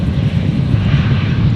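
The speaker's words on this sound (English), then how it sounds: "So Qantas 934 just about to touch down on 19er left" Qantas Boeing 737 arriving from Perth and touching down on Brisbane's runway 19 left, a steady, loud engine rumble with a broad low roar that holds without a break and no talk over it.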